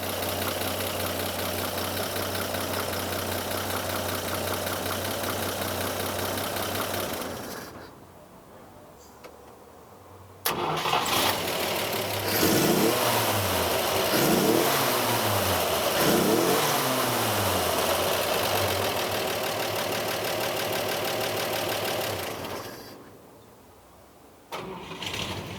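A 1949 Chevrolet five-window pickup's 235 inline-six idles steadily, cuts out, then restarts and revs in several rising and falling swells before dropping back to idle, loud and close.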